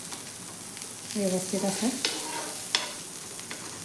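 A dosa cooks in butter on a hot tawa with a soft, continuous sizzle and a few sharper crackles, while a voice speaks briefly over it.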